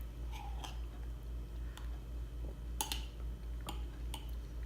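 Someone chews a bite of brownie batter overnight oats close up, with soft, quiet mouth sounds and a few sharper crunchy bites scattered through the moment.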